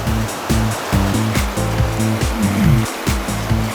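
Fast river rapids rush past on a rafting descent near Bovec, a loud, close churning of water with repeated surging swells over a low, tonal droning layer.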